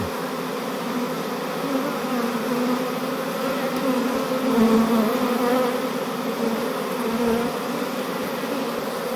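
Honeybees buzz steadily in a dense, continuous drone while being rescued from the ceiling of an agricultural building, the hum swelling slightly at times and with no talk over it.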